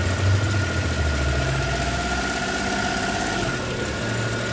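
A car engine idles steadily after starting, a loud close rumble with mid-pitched mechanical vibration that holds level throughout.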